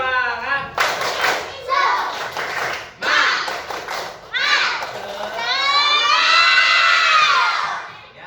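Schoolchildren in a classroom clap and shout together in an ice-breaking clap chant, with bursts of loud group clapping and sung, chanted voices building to a sustained shout.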